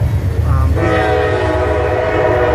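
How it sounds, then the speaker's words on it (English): CSX and Norfolk Southern freight trains roll past. A low rumble runs throughout, then a loud, sustained horn blast comes in and holds close by over the rail noise. "I love the trains. Just keep it rolling, folks. CSX all the way."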